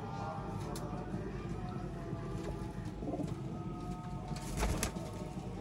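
Sialkoti breed pigeons cooing in a loft, soft low coos under a constant hum of background noise, with a brief flutter near the end.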